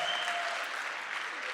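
An audience claps steadily at a Sankranthi cultural event after a harvest song performance, a dense wash of applause that holds evenly throughout.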